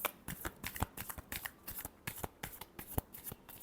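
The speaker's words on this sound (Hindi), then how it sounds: "last shuffle" A deck of tarot cards is shuffled close up in a quiet room, a run of crisp riffling flutters and soft slaps in quick irregular bursts, with no voice over it.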